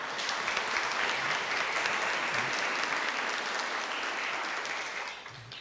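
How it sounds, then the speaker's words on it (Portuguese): A church congregation breaks into steady, dense applause for the Lord during a sermon on prayer, sustained clapping filling the room before fading at the end. "Uma salva de palmas, Nosso Senhor"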